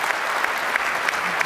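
Audience applause at the close of a live event featuring British MPs, a steady wash of clapping from a crowd, moderately loud and continuous without speech.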